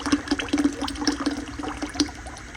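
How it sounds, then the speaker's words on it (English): Acetone drains out of a Ford 8000 tractor engine block in a thin, uneven trickle of splashes and drips, quiet and close, with no talk. "there's some of my acetone coming out already"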